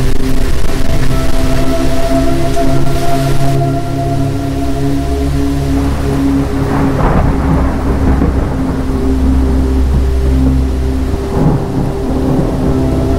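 Heavy rain and a thunderstorm with loud, rolling thunder rumbling under a continuous downpour, the rumble swelling midway and surging again toward the end.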